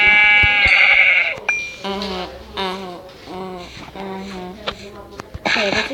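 Sheep bleating in a video game: wavering, harmonic bleats come loud and close in several bursts across the stretch, and a voice talks over and between them.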